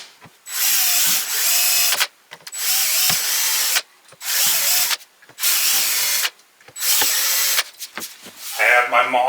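A power drill bores into a one-piece wood desk top in six loud, close bursts of two to three seconds each, high whine separated by short silences, with a ratcheting clatter at the end.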